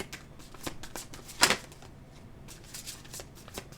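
Tarot cards being shuffled and pulled from the deck: a run of soft close riffling flicks and card snaps, with one louder slap partway through, and no talking.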